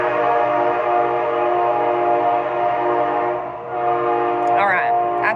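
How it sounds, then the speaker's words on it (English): A train passing nearby, its rumble and steady horn-like tonal drone sustained for several seconds before fading, with a voice speaking toward the end. "his train just went by"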